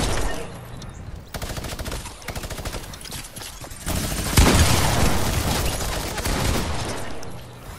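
Rapid bursts of gunfire in Fortnite, dense crackling shots in clusters with a louder volley partway through, continuing in steady rattling strings to the end.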